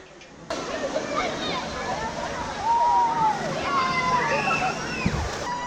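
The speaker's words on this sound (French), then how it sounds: "il y a une rivière sauvage avec des bouées" Water sloshes and churns along a wild river ride at a water park near Barcelona, a steady watery wash with people talking and calling out over it throughout.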